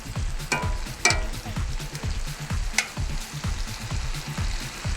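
Shrimp frying and being stirred in sauce in a pan, a close, continuous sizzle broken by rhythmic scraping strokes and a few sharper clanks of the utensil against the pan.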